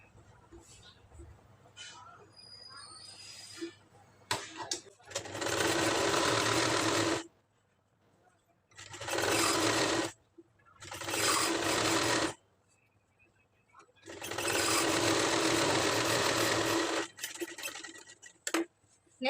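An electric sewing machine stitches the back piece of a lined blouse in loud, steady bursts lasting a few seconds each, separated by quieter gaps with soft handling noises.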